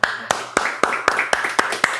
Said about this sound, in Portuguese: Palmas do Senhor.